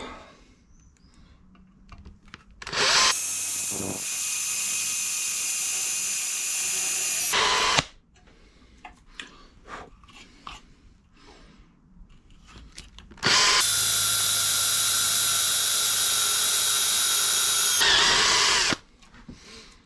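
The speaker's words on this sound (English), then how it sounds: "We'll start by drilling out the spot welds." A power drill drills out spot welds on a 40-year-old Honda in two long, loud, steady bursts of several seconds each, close by, with quieter clinks and handling noises between them.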